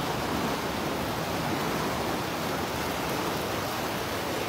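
Flash-flood water surges past behind a temple near a river bridge in Mae Ai, Chiang Mai, a loud, steady broadband rush with no pauses and no voices.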